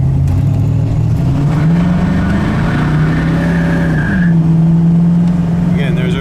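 A 1969 Mercury Cougar with a two-barrel carburetor V8 accelerating on the road, the engine note rising steadily and loud inside the cabin, then dropping briefly at a gearshift before pulling on again.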